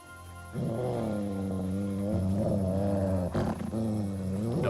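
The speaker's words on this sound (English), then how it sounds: "dog, shut up." A dog growls continuously and menacingly in Kingdom Come Deliverance, a deep sustained snarl close up that rises and falls, with a brief sharper bark-like break near the end.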